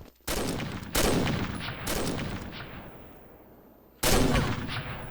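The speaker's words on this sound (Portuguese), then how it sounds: "O tiro passou em cima do seu ombro." Four loud, sharp video game gunshot blasts spaced about a second apart, each with a long echoing tail that rolls off before the next.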